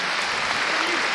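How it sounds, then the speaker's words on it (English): A crowd applauds at a dog agility final at Crufts 2019, a dense, steady wash of clapping filling the whole moment, loud and even with no break. "from this very generous crowd, will get a very generous round of applause at the end of it"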